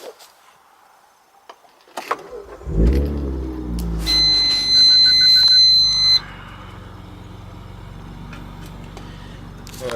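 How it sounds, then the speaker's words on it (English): Car engine cranking and starting, with a key jingle, a brief starter whir, then the engine catching and settling into a steady idle, close and clear. "I'm gonna start the car."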